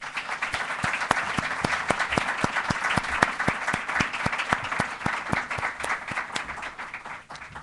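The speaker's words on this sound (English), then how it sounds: "Let's give them a final round of applause." An audience applauds a panel at the close of a policy discussion, a steady, dense round of clapping sustained for several seconds at moderate volume, with individual claps audible in the mix.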